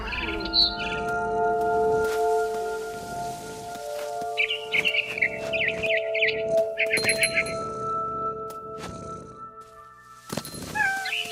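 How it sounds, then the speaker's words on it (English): A barn swallow in the video game What Remains of Edith Finch gives repeated high chirps and twittering calls over a steady tonal game hum, with a cat meowing among the bursts. "Then I heard chirping outside my window. It was a barn swallow going back to her nest."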